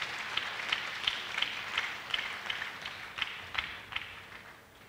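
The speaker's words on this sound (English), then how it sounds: "please give Dr. Jamaldeen Abdullah a round of applause as he launches this year's" An audience claps for the launch of a university hackathon during KNUST Technology Week, with steady, evenly spaced claps at moderate distance and fairly faint volume.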